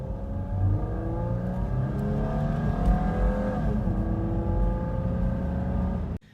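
A car with about 246,000 miles and its intake silencer removed, heard from inside while driving. The engine drones loudly and climbs through rising gear pulls, then cuts off abruptly at the end.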